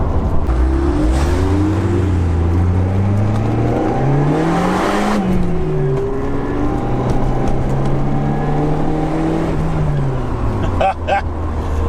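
Loud combustion engine of a Lotus car revving up through the gears, pitch rising and falling as it accelerates, recorded from close by and continuous throughout.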